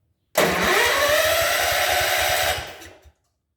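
A small John Deere engine is started with the choke on and catches, roaring steadily and close for about two seconds before dying away, with no talk.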